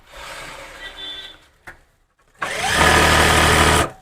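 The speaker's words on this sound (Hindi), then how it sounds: "निशान के ऊपर सबसे पहले हम सीधी सिलाई लगाएंगे" A sewing machine stitches a coat collar in two bursts: a softer run of stitching, a short clunk and pause, then a louder, steady whirring run up close, with no talking.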